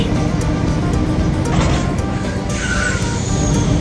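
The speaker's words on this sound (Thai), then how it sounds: "นี่เสียงเบรกอะ" Heavy old tractor-trailer truck hauling about 80 tonnes down a mountain road in Truckers of Europe 3, with a steady loud engine roar and a high brake screech rising near the end.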